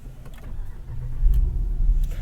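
A 2022 Jeep Grand Wagoneer engine cranking and catching, a low rumble that swells into a steady idle, close and fairly loud, with faint clicks and rattles over it.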